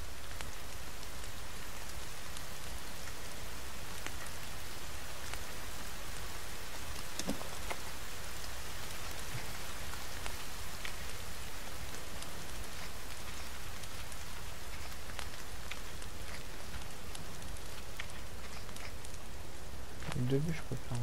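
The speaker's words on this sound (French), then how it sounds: "Oui, il pleut, tiens, ça va remplir ça." Steady heavy rain in a video game hisses continuously, with occasional louder drops and patters standing out against the constant downpour.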